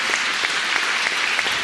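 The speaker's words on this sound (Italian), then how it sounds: "Applauso ragazzi." An audience claps steadily at a live festival talk in Italy, a dense patter of many hands at close range, with no voices over it.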